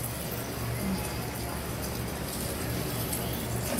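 Crab cakes laid into very hot oil give a continuous, dense sizzle and crackle that holds steady and close throughout, with faint voices in the background.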